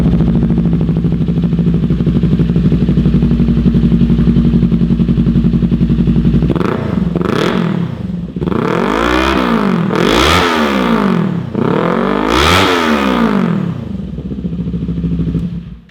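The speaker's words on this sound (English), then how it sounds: "That Megaphone EVO system, right, they have a real distinct sound." 2018-2023 Kawasaki Ninja 400 fitted with a Hindle Megaphone EVO slip-on exhaust, idling loudly and steadily before three or four sharp throttle blips rise and fall through the revs, close and raspy.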